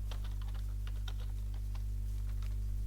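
Fingers tap out quick, irregular keystrokes on a computer keyboard, soft and close, over a steady low electrical hum.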